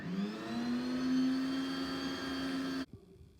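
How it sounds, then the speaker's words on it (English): An electric mixer works flour into butter cookie dough with a steady humming motor whine, close and continuous, then cuts off abruptly near the end. "And continue to mix away"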